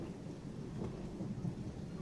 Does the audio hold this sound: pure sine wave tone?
no